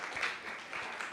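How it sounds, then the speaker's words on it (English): Brief burst of audience applause at a birthday celebration event, steady dense clapping from a crowd, moderately loud with no talking over it. "If we can give him a round of applause"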